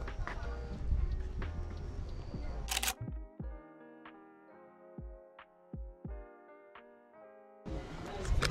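A Leica camera shutter fires several times in a quiet moment, with sharp, separate clicks at an uneven pace, close and distinct, between louder ambient noise at the start and end.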